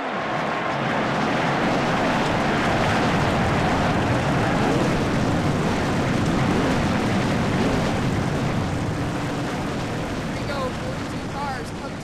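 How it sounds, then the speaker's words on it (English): Stock-car engines fire up together on a road course in a Cup Series racing video game, a loud, dense, continuous roar that fills the whole stretch without letting up. "Drivers, start the engine!"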